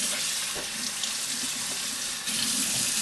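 Celery rinsed under a running kitchen tap, a steady close hiss of flowing water into the sink with slight changes as the stalks move through the stream, no voices.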